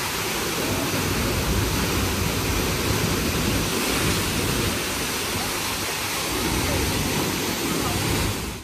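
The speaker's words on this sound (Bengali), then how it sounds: "ঝর্ণার জলের আওয়াজটা তোমরা শুনতেই পারলে, কতটা জোরে স্রোতে পড়ছে" Loud, continuous rush of a waterfall near Gangtok crashing down, a dense, steady roar that fills the scene without letting up.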